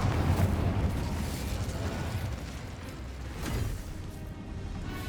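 Spell blasts from Bombarda and Confringo in the Hogwarts Legacy video game: dense, continuous rumbling explosions and bursts, loud and sustained with a swell near the end, no speech.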